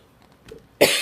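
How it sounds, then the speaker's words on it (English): A single close, loud cough bursts out at the end of a second of near silence, coming from a woman working on a colouring or craft project at home. "I'm going to have to edit so much of my coughing out."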